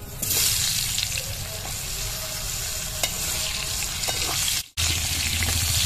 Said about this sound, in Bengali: ওই একই তেলে আমি আলুগুলো ভেজে নেব।